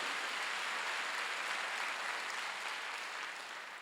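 A church congregation at a Sunday worship service breaks into dense, steady applause, loud and continuous throughout, easing off slightly at the end.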